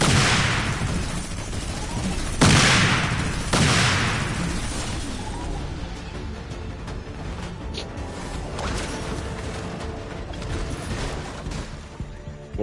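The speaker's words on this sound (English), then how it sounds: "the snowballs that shoot out of my minigun, it's an explosion, technically." Snowball minigun shots exploding in the Fortnite video game: a few sharp, loud booms early on, each decaying into a rumbling tail, followed by quieter mechanical game sounds.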